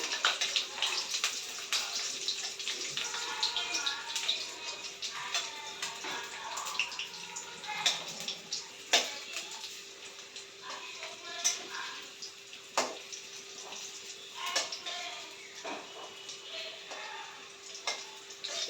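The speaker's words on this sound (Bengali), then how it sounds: "এইভাবে উল্টিয়ে উল্টিয়ে ভেজে নেব আমি" Dhoka, Bengali lentil cakes, frying in hot oil, giving a continuous close hiss of sizzling with scattered sharp crackles and pops throughout.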